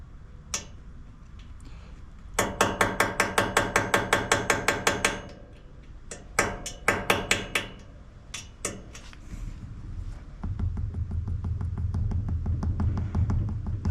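Rapid metallic tapping on the valve cover area of a Craftsman DLT3000 riding mower comes in fast bursts of evenly spaced clicks with short pauses between them, then a steady mechanical drill whir takes over.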